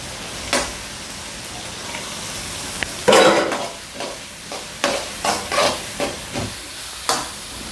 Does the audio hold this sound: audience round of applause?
no